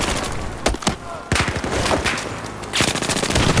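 Rapid automatic gunfire in Battlefield 4 naval close-quarters combat, loud and dense bursts of machine-gun fire with scattered heavy shots, sustained throughout with brief gaps.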